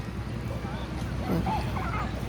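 A dog barks amid the steady hubbub of a busy outdoor holiday crowd, with the barks mixed into continuous people talking and background noise.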